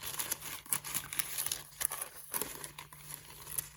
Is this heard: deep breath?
no